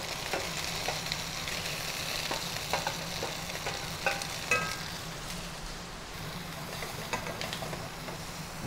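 Carrot and onion sizzle steadily in a pan as an aromatic garnish for veal, a soft continuous frying hiss with occasional stirring clicks, moderately quiet with no voices.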